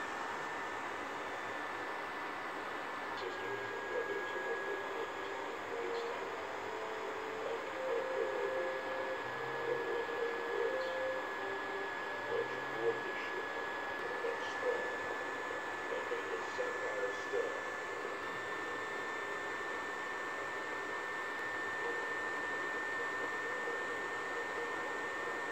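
A steady, even whir of a PS4 console's small cooling fan runs throughout with a faint high whine, close and continuous, with no talking.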